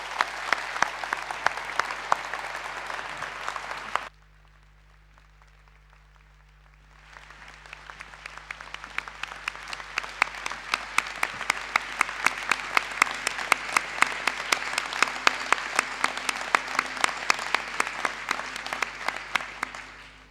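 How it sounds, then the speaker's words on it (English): Sustained audience applause fills a hall at a college graduation ceremony in Inverness, loud and steady, breaking off into near silence for a few seconds before resuming even denser and continuing to the end. "what I'd love to end on is a big round of applause for all the supporters of individuals who are here"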